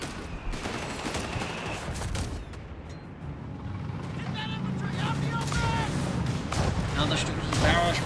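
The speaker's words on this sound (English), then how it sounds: "Another strip of barrage for this one, it landed a bit better here for Delirious" Artillery barrage in Company of Heroes 3, with dense rumbling shell impacts and scattered gunfire rolling continuously under a commentator's steady talking.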